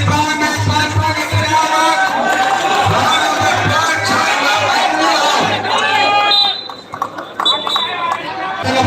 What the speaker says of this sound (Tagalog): First quarter pa lang, grabe sigawan na dito.